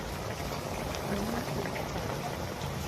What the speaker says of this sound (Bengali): জলটা খুব ভালোভাবে ফুটে গেছে